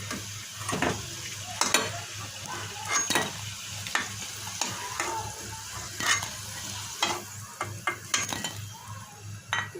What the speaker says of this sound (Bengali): বাকিগুলো এইভাবে দিয়ে আমি ভেজে নেব